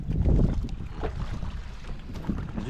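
A G12 outboard motor on a small fishing boat at sea runs as a steady low drone, with wind buffeting the microphone and water noise around it. No one speaks.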